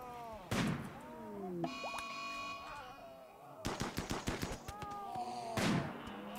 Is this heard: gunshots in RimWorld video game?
yes